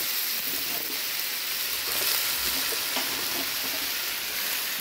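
Malabar spinach (pui shak) hits hot oil in a pan and is stirred, a loud, dense hiss of frying with faint scraping from the utensil, continuous and close, with no talking.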